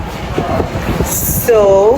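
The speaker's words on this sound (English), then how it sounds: "So we're in the subway." A New York subway train rumbles through the station with low clatter. A high hiss cuts in briefly, and then a bright metallic wheel squeal rises near the end. A voice speaks at the start.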